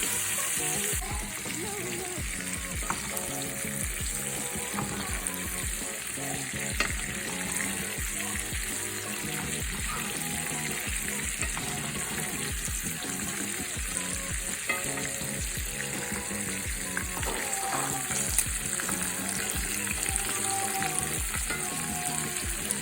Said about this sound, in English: Allows more of that heat to penetrate the meat while it's still being cooked in the pan on one side before I finish off in the oven.